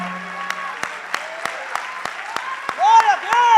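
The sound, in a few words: congregation applauding in church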